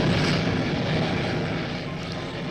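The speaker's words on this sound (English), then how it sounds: "That's a jet piercer, and it's drilling a hole 40 feet deep in our very hard rock bed." A jet piercer burns fuel to drill a 40-foot hole into very hard rock bed at a taconite mine, giving a loud, steady roaring blast that holds evenly throughout.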